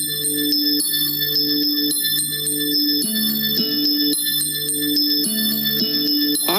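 Synthesized bell-like tones sonifying the oxygen molecule, layered chiming notes stepping through a repeating rhythmic pattern, steady and moderately loud with no voices.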